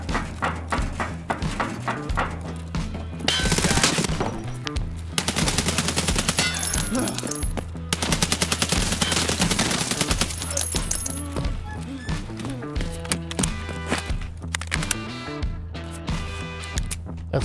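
Rapid automatic gunfire in a first-person shooter game, loud bursts of shots repeating over a busy backdrop of game effects, with no one talking.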